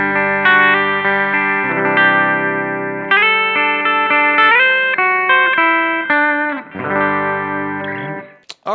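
Clean electric guitar played through a Line 6 Helix Jazz Rivet 120 amp model, ringing chords and melodic single notes with sustained decays, loud and close, alone without talk.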